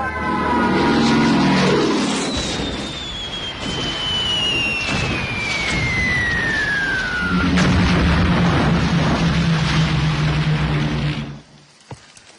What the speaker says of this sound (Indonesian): Kediri sudah dilululantakkan oleh pesawat-pesawat Belanda